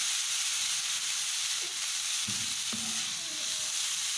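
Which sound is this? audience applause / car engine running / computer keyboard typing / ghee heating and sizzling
ghee heating and sizzling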